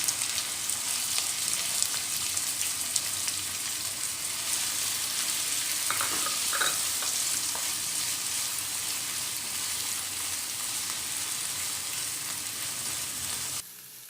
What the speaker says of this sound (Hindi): जब तेल गरम हो जाए इसमें डालिए प्याज